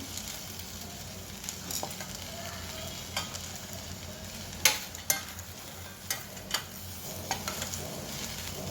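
A spoon scrapes and stirs okra coated with flour and semolina in an oiled pan, making soft intermittent clicks and scrapes over a faint low sizzle.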